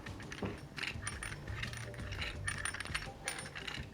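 A long-threaded gong stand adapter being turned several times onto a back washer, giving a steady run of close, faint metallic clinks and scraping ticks like jangling hardware, with no talk.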